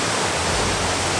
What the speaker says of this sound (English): once you've seen one waterfall, you've seen them all.